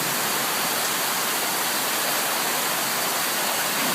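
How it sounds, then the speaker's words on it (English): Heavy tropical rain pours down in Darwin in March, a loud, steady, unbroken roar of water near a carport and boat, with no talking. "It's absolutely bucketing down."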